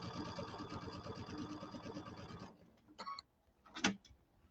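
Sewing machine stitching several times over the back overlap of an envelope closure, a quiet, rapid, steady run of stitches that stops partway, followed by a few faint clicks and handling sounds.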